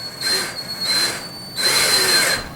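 Power drill driving screws into a plastic TV wall box, three bursts of whirring with short pauses between them, the last burst longest, close and fairly loud.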